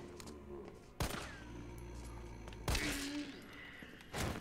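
Bursts of gunfire aimed at Nemesis during a hardcore boss fight in Resident Evil 3 Remake, with three loud shots about a second apart standing out over a low, rumbling game soundscape.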